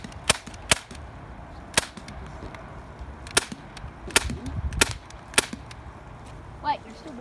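A BB gun fired at a can, giving about eight sharp, snappy pops spaced irregularly over several seconds, close and loud, with faint background voices between shots.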